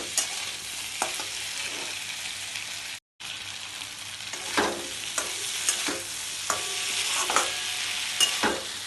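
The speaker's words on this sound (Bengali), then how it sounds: "তাকে সুন্দর আস্তে আস্তে করে একটু ভাজা ভাজা করো।" Turmeric and spices frying and being stirred on a low flame in a pan, with a steady soft sizzle and repeated scraping strokes of a spoon, close and alone.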